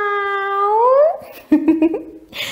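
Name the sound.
voice imitating cat meow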